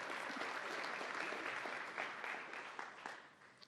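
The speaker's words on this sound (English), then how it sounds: "A warm round of applause to him, please." Audience applause in the ECOSOC chamber at a senior-level meeting in New York, dense sustained clapping from a large crowd that slowly fades toward the end, heard alone without talk.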